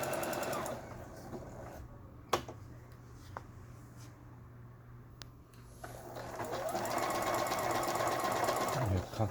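A Juki HZL-G110 computerized sewing machine runs an overlock stitch test. It starts with a brief stitching run and a few sharp clicks, then a steady close rhythmic whir of stitching builds toward the end.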